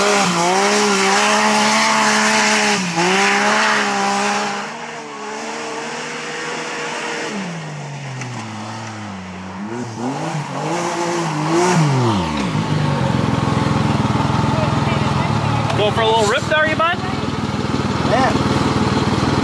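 A Textron Wildcat XX UTV engine revs up and down in repeated rising and falling whines, loud and close, then settles into a rougher idle with a brief sharp rev.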